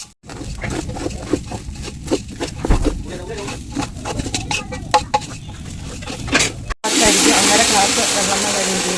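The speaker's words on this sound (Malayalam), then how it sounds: "ഇത് അഞ്ച് മിനിറ്റ് ഹൈ ഫ്ലെയിമിൽ ഇങ്ങനെ നന്നെ ഇളക്കിക്കൊണ്ടിരിക്കണം" Food is stirred and fried in a pan over a high flame, with scraping and clattering under someone talking, then a loud, steady sizzling hiss takes over for the final two seconds.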